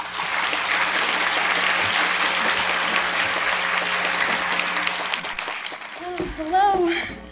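An audience applauds to welcome a speaker, a dense steady clapping from a large crowd that fills most of the stretch and then fades as a voice begins talking.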